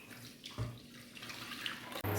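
Pomegranate juice, diluted with a little water, is poured into a kadai for homemade syrup. It makes a soft, faint trickle with a few brief splashes and clinks, close up and with no voices.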